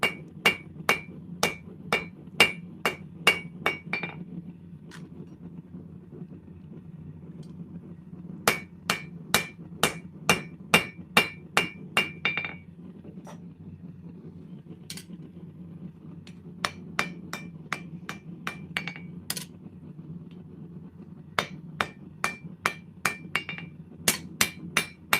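Bursts of rapid hammer blows ring off an anvil while metal is forged, long runs of quick, clanging strikes broken by short pauses, loud and close throughout, with no voices.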